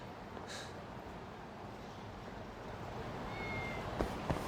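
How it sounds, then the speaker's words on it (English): A cat gives one brief, faint meow in the video game Judgement, over a low ambient hum, followed by soft clicks. No one speaks. "I hear a kitty."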